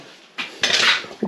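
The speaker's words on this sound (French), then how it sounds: "je fais ma vaisselle tranquille là" Dishes being washed at a camping van, with close clinks and scrapes of plates, pots and cutlery and a brief rush of water in between.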